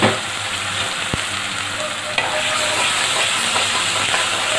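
Masala with whole garam masala and chili powder fries loudly in a pan, a dense continuous sizzle and hiss close up, with a couple of sharp knocks from a spoon against the pan.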